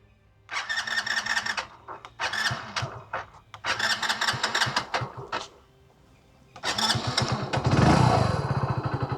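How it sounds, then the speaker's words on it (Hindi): A Hero Splendor motorcycle starter motor whirs in several short bursts with gaps between, then the engine catches and runs with a rough, close rumble. "इस मोटरसाइकिल में ये देखो स्टार्टर मोटर लगी हुई है,"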